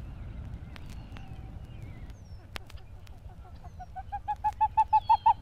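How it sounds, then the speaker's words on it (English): A pied-billed grebe calls across an evening pond in Sapsucker Woods, its loud series of rising, accelerating hoots building to a clear climax over a low background of other birds and ambient noise. "the startling call of the pied-billed grebe reverberates across the pond"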